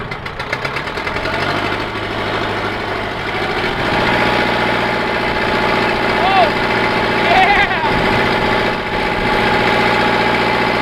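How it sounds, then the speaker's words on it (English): A 15,000-pound digger's engine idles close by with a steady low rumble and faint knocking vibration that holds throughout, while a voice talks over it. "this old girl is just sitting here idling away"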